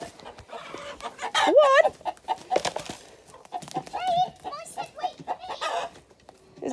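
Backyard hens cluck and one gives a rising squawk, loud and close, in short bursts among children's voices and an adult speaking.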